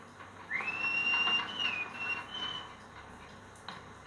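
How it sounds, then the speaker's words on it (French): A shepherd whistles outdoors in a rural setting, one long melodic whistle that rises and then slides down, fairly faint and distant over quiet background, followed by a few soft clicks. "Qu'est-ce qui siffle?"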